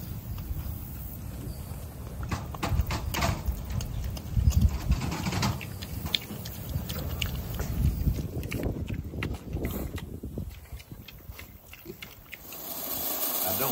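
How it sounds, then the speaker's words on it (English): Pigs eat soaked corn and day-old biscuits, making close, continuous wet munching and crunching with scattered thumps and shuffling. "Pigs are enjoying a treat of soaked corn and day-old biscuits."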